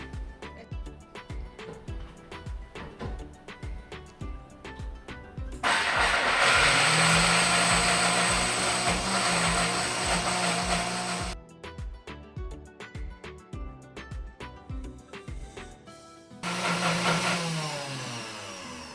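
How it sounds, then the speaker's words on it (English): An electric grinder grinding almonds into a paste, running in loud whirring bursts that start and stop, separated by rapid rattling, knocking pulses close by. "let's go grind this and make a paste out of it"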